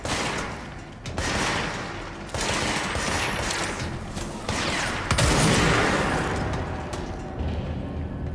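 Weapon fire in the video game Control, loud rapid bursts of shots in several volleys, with brief gaps between them and echoing impacts throughout.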